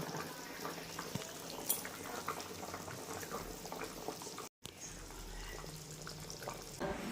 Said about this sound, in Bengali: ঝোল ফুটছে। এবার এক এক করে আমি মাছগুলো ফেলে দেব।